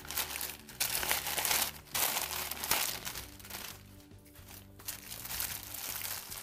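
Plastic parcel packaging from an AliExpress order crinkles and crackles continuously as it is unwrapped, in close, fairly loud bursts with brief pauses, over a faint steady hum.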